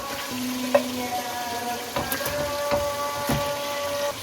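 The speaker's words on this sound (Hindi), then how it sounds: "अब बस इसको मसाले के साथ इस तरह थोड़ा सा कुक करें" Chicken tikka fries with masala in a pan, giving a soft steady sizzle broken by a few clinks and scrapes of stirring.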